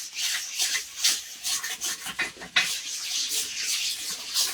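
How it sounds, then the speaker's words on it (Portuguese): Sandpaper is rubbed by hand across a black table being prepared for white paint, giving repeated raspy back-and-forth strokes in an uneven rhythm, close and clear with no talk. "Agora eu tô lixando a mesa, que é preta, pra me pintar de branco"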